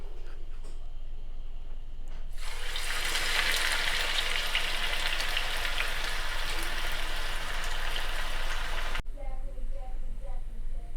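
A loud, steady sizzle of crushed garlic frying in hot oil rises suddenly and continues for several seconds, then cuts off abruptly.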